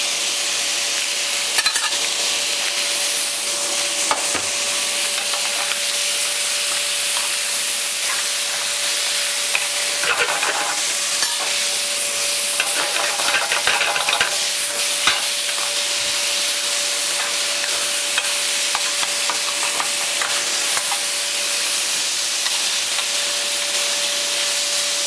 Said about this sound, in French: De cette garniture, on va les mélanger avec la Saint-Jacques.